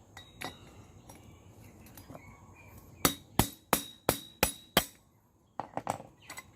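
A bearing is hammered out of a fruit blender. Six sharp metallic strikes ring out at an even pace, with a few lighter taps before them and a quick cluster after. The blows are close and loud, and no one speaks.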